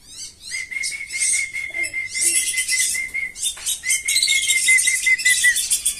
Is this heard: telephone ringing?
no